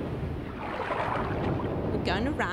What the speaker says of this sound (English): It's windy. There's water.